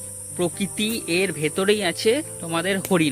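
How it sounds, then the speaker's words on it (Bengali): Crickets chirp in the forest of the Bibhutibhushan wildlife sanctuary at Parmadan, making a steady, high, continuous drone that runs beneath a person talking. "আর এখানে শুধু চারিদিকে ঝিঝি পোকার ডাক"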